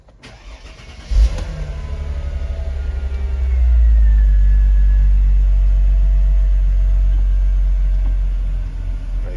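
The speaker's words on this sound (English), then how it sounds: "I'll start the car and I'll see if I can pick up the noise that it makes." A Mercedes SL convertible engine cranks and fires after a brief moment, then settles into a steady, loud low rumble that swells slightly and holds at idle, close by with no talking.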